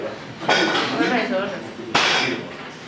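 A Proctor compaction hammer strikes the soil twice, about one and a half seconds apart, with sharp, loud impacts and a brief ring after each blow.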